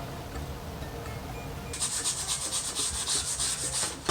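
Hand sanding on a reverse canvas sign's wooden frame: after a quiet stretch, a fast rhythmic scrubbing rasp starts and keeps going, close and fairly loud, with no talk.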